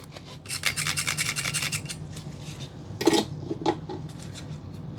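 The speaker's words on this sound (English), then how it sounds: "I was trying to rub something across it so you could hear it." An object is rubbed and scraped across an etched resin crete surface that looks and feels like stone, giving a close, gritty rasping with a few sharper scrapes partway through.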